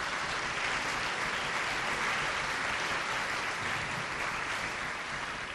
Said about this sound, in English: Give a round of applause for the staff